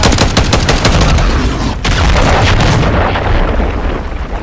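Dense, loud gunfire in the video game Call of Duty MW3, rapid bursts of automatic weapons mixed with heavier booming shots and explosions, continuous and close with a brief pause near the middle.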